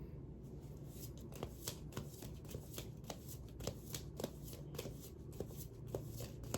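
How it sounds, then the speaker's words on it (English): A deck of tarot cards is shuffled up close in a continuous stretch of rapid riffling and flicking, with sharp card snaps recurring throughout over a low steady background hum. "I'm going to pull one more card for that."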